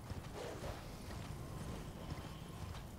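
Horse hooves clip-clop in Elden Ring as the freshly resummoned steed trots across snowy ground, a steady close rhythm of hoofbeats running the whole stretch without any talk.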